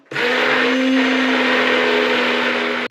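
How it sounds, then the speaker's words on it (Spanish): A blender whirs steadily at close range making mayonnaise, with a strong motor hum and high whine, running without a break for nearly three seconds. "que no he enchufado la batidora"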